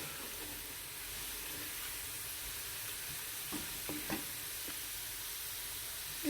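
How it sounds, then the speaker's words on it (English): A pot of sarson ka saag, mustard greens, bubbles and hisses softly on the stove, a steady low simmer with occasional faint pops and clinks. "So this is saag, still boiling."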